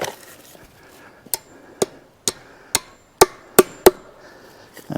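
Sharp hammer strikes driving fence staples into woven field fence, about seven evenly spaced blows at close range, with quiet rustling between them.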